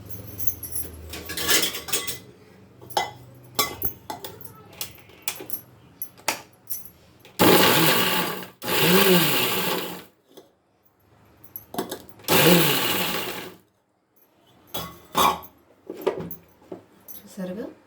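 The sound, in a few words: mixer grinder (mixie) grinding chilli paste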